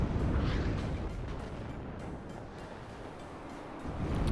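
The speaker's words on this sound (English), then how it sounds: "Artillery now going in on that commander as well." Artillery fire in the real-time strategy game WARNO, a dense rumbling barrage of booming impacts that blur together into a continuous low roar, moderately loud throughout.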